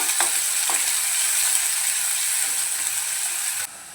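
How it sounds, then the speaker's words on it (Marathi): Half a spoon of cumin sautés in a pan for a Malvani-style small brinjal curry, making a steady bright sizzle with a few light stirring scrapes. The sizzle cuts off abruptly near the end. "अर्धा चमचा जिरं घेतलं आहे ते घालून घेऊया आणि छान याला परतवून घेऊया"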